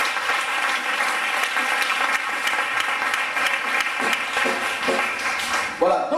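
A congregation applauds during a lively church service, a dense continuous wash of clapping that stays loud throughout, with voices mixed into the crowd.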